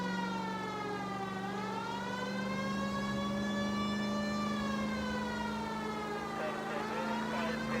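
Police car siren from the video game LA Noire wails steadily, its pitch sweeping slowly up and down over a constant engine hum, loud and unbroken with no speech.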